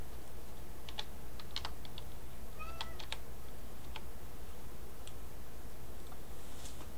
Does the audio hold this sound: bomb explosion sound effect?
no